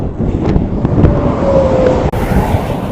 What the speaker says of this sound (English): Ty, it's a little bit windy out here today